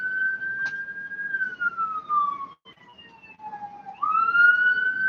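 A wailing emergency siren rises and falls in pitch, heard at a moderate distance over faint background rumble, with no talking.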